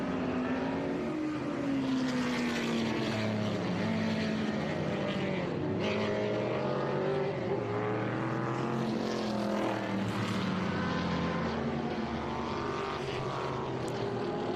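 Engine of a 1967 Corvette race car during vintage racing qualifying at Laguna Seca, a loud sustained roar with rising and falling pitch as it accelerates and shifts, continuing throughout without speech.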